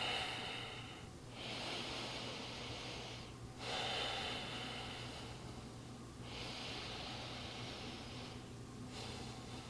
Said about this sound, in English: Just a couple breaths here.